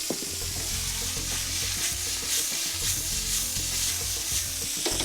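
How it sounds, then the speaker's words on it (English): Beef dropped into a pan of quickly browning garlic, sizzling loudly and steadily with stirring scrapes throughout, no talking. "And then as the garlic is browning very quickly, I'm going to put this beef in to stop the garlic browning."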